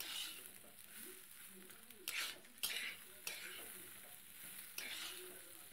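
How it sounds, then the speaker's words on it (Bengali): Rice and butter being stirred in a pan for basanti pulao, a soft continuous sizzle with a few sharp scrapes and clinks of the spoon against the pan, faint and close. "দিয়ে আর একটু নেড়ে নেব।"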